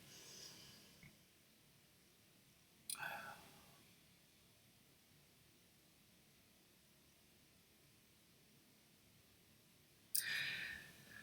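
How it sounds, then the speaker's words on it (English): A sleeping dog snores in a quiet room, giving two brief, faint snorting breaths about seven seconds apart against a soft background hiss. "My dog is snoring again."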